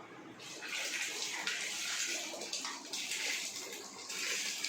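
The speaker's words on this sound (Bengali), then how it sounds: "এবার আমি চাল দিয়ে দেবো" Biryani rice is poured slowly into a cooking pot at a home birthday meal, making a continuous soft rushing patter that swells and eases throughout.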